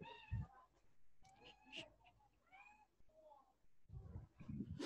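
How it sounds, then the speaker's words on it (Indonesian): A domestic cat meows several times in a row, faint and somewhat distant, with drawn-out and wavering cries and some background noise. "iya ada kucing"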